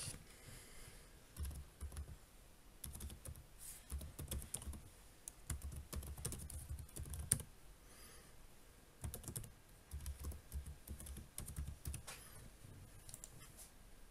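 Login details are typed on a computer keyboard in rapid bursts of close, crisp key clicks separated by short pauses, with no talking.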